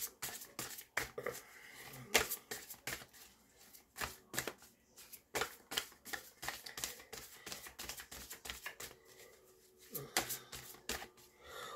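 Tarot cards are shuffled close up in quick irregular bursts of riffling and slapping, with short pauses between handfuls and soft speech faintly underneath.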